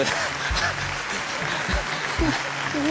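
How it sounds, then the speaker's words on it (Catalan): A studio audience on a TV quiz show breaks into applause, a broad, steady patter of many hands, with low thumps and some voices mixed beneath. "Aplaudiments!"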